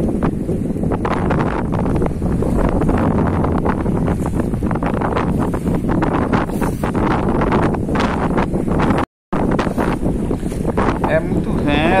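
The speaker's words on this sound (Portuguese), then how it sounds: "É muito vento, meus amigos." Strong wind roars and buffets the microphone aboard a fishing boat on the open sea during net fishing, a loud, steady gusting wash that runs throughout, with a brief dropout near the end.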